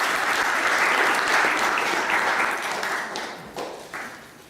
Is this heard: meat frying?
no